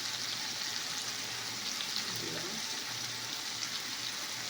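Cumin seeds sizzling in a hot pan with salt and turmeric, a steady close crackling fry with faint stirring and no pause.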